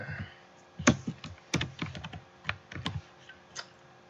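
Someone types code on a computer keyboard, clicking out irregular bursts of close, crisp keystrokes with short pauses between them and no talking.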